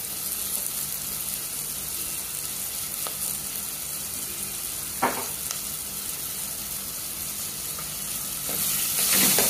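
Onion fries with salt in a pan and ginger-garlic is added, giving a steady close hiss and sizzle throughout with a couple of brief stirring clicks and a louder sizzle surge near the end.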